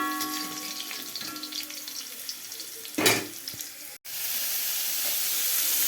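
Bitter gourd is sautéed in oil with a continuous loud sizzle. Partway through comes a brief burst of stirring or tossing, then a short cut, after which the sizzle resumes steadily.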